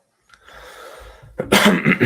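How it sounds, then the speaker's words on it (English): Soft breathy noise, then a burst of harsh, close coughing, two or three rough hacks in quick succession. "I know I'm coughing a bunch"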